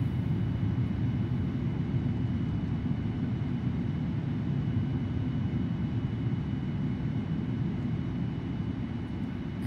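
Boeing 787-8 Dreamliner engines roaring in idle reverse thrust during a landing rollout in the Prepar3D flight simulator, a steady loud low rumble holding unbroken throughout.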